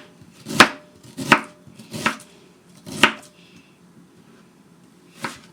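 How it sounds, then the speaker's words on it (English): A knife chops fresh ginger into small pieces on a cutting board, five crisp, close thuds in an uneven rhythm, the last arriving after a longer pause. "So the ginger, I'm just cutting it smaller, so the strings, once I blend it, the strings will not be in the paste."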